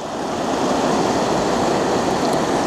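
Roaring river water of the East Fork San Gabriel, a steady, loud, unbroken rush filling the whole clip with no voices over it.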